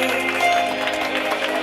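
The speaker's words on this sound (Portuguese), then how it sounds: "Uma salva de palmas para nossa homenageada," A group applauds a birthday honoree at a surprise celebration in Guarulhos, with dense, moderately loud clapping mixed with crowd murmur and some voices.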